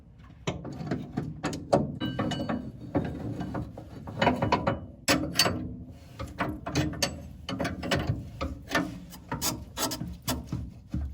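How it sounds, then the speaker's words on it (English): Spring compressor cranked on a car's coil spring, giving a close, steady run of rapid ratchet clicks and metallic rubbing that lasts throughout. "this is my spring compressor. I'm going to drop this in and then we can start compressing it"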